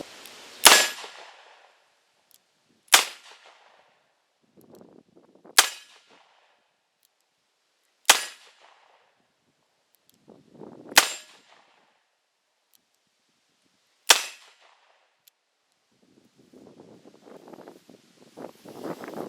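Six sharp, loud gunshots from a snubnosed Smith & Wesson Model 57 .41 Magnum revolver fired one-handed ring out at a slow, even pace, each with a short echoing tail, and faint wind noise comes in at the end.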